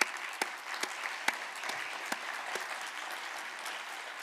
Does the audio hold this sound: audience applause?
yes